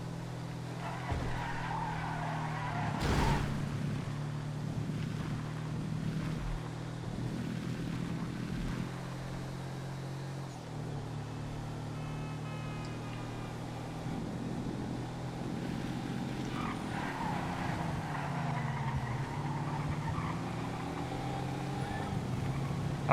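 A Journey motorhome racing in a GTA FiveM race, its engine droning steadily with tire squeals and skids over the sustained low hum, plus a sharp crash-like hit early on.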